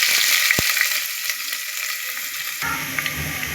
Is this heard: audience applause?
no